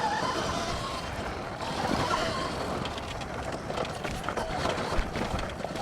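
Rerode R1+ electric trail motorbike riding over rocky ground, heard as a steady, rough rush of wind and tyre noise with the faint motor mixed in, continuous and close throughout.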